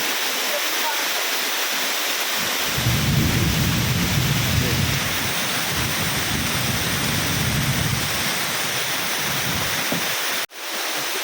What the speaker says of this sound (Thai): ฝนตกหนักมากเลยตอนนี้ หนักกว่าตอนแรกๆนะฮะตอนนี้หนักมาก